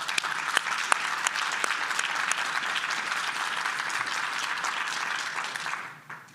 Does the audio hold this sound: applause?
yes